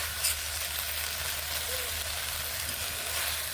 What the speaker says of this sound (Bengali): এভাবে নেড়ে আর কয়েক সেকেন্ড ভেজে